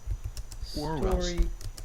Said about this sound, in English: Now I'm ready to start typing.